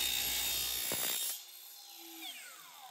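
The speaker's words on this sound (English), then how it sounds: "now I'm just gonna cut this right at a 45 degree." A saw cuts a tile piece at a 45 degree angle during a tile shower build, a loud steady grinding whine for over a second that then drops away, leaving a fainter falling spin-down tone as the blade winds down.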